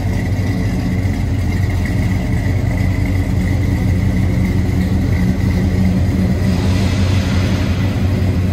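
A 1971 Chevrolet Chevelle SS engine rumbles loud and close through its dual chrome-tipped rear exhausts, holding a steady idle that swells slightly near the end, with no voices.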